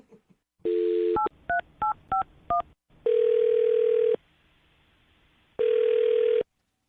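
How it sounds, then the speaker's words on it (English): On a telephone, a short burst of keypad tones is followed by two long, steady ringback tones separated by a pause, all clear and close with no voices. "I'm going to dial his phone number right now"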